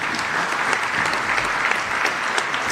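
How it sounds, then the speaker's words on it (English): An audience at NJ Transit's first electric bus unveiling claps for the employees, a dense, steady round of applause throughout the short stretch. "Let's give all the employees a round of applause."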